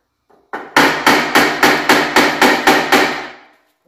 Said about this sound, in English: after using some more penetrating oil, and a lot of hammering, with a bigger hammer